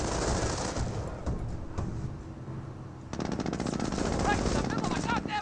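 Machine gun fire in the video game Company of Heroes, rapid rattling bursts that pause briefly and then resume louder and sustained, with someone speaking underneath.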